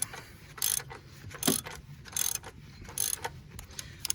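A ratchet tightens a fastener during an oil change on a 2010 Chevrolet Camaro with the 3.6 engine. Several short bursts of close, crisp clicking are separated by brief pauses, with no voices.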